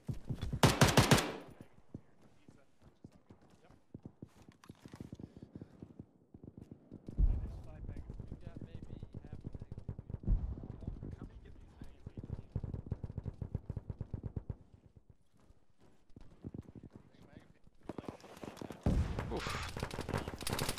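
Gunfire in a ShackTac military video game, with bursts of rapid automatic shots in several volleys separated by quieter stretches and people talking.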